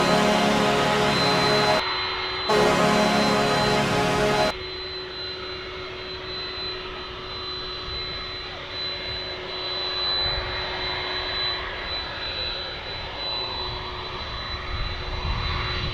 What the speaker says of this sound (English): So that Dreamliner is getting ready to head to Kauai